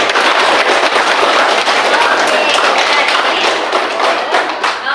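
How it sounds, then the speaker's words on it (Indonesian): A classroom of pupils giving a round of applause for a classmate, dense close clapping throughout five seconds, loud and steady before tapering slightly at the end. "kasih tepuk tangan buat Aisyah"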